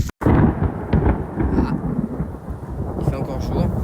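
Thunder rolls through a summer thunderstorm, a loud sustained rumble with rain noise, starting abruptly and continuing for several seconds.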